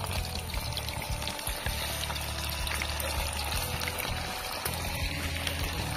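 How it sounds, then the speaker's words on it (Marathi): Chicken 65 frying in oil outdoors by a river, a loud, continuous crackling sizzle with dense bubbling throughout, close up and without voices. "बुडबुड्यांचा आवाज बघा कसा येतो, एकदम भारी"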